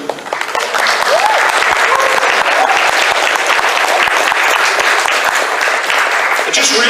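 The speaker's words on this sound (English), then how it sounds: "give them a big round of applause" Audience at a fan convention breaks into a big round of applause for the event organisers, a loud, steady wash of many clapping hands with cheering voices mixed in.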